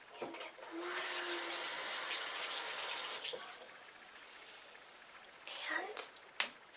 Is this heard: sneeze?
no